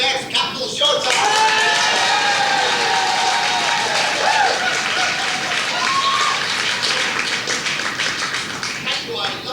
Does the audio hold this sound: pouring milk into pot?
no